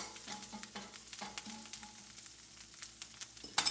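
Chorizo sausage fries quietly in a pan over low heat, a faint soft sizzle with several clinks and scrapes of stirring, ending in a sharper clatter, no voices.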